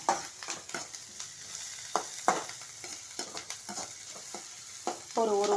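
Ingredients for cabbage bonda are sautéed in a pan, with repeated stirring scrapes and taps over a gentle, continuous sizzle heard up close.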